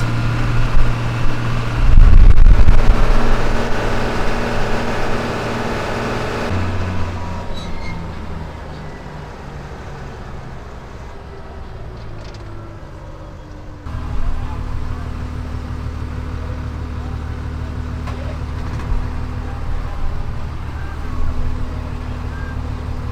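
A farm vehicle's engine rumbles steadily as it pulls a trailer during a pear harvest, with shifting low drone and a louder surge early on; a person talks over the ongoing engine noise.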